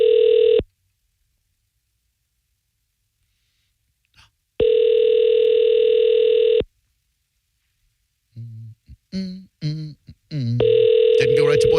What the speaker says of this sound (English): Ring, ring. It almost sounds like there's something wrong with the phone.